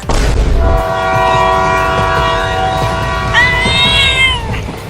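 A cat meows in a long, rising cry near the end, heard over a loud, sustained train horn and the rumble of a moving train.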